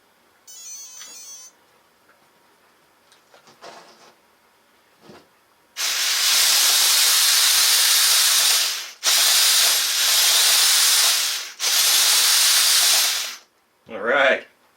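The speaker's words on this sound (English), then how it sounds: "I know it sounds loud, but it's these big metal spurs, and yeah, that transmission doesn't feel the best" An Axial SCX10 6x6 brushless RC truck with big metal spur gears runs its transmission in loud, harsh whirring bursts of several seconds each, after faint clicks and handling noises, with a short chirp at the end.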